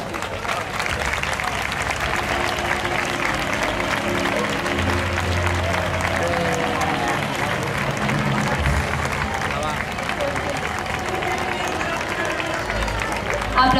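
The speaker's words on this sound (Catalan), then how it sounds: "la nostra més cordial felicitació amb aquest aplaudiment" Applause from the audience at a Valencian falles preselection gala in the Benimàmet, Burjassot and Beniferri sector, steady dense clapping filling the whole stretch, with music or voices running underneath.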